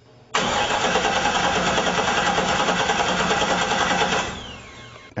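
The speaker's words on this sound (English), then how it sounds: "we cranked it and cranked it and cranked it" Starter cranking a Mast M-90 engine fitted in a 1966 Pontiac GTO, a loud, steady, close whirring drone lasting about four seconds without catching, then winding down.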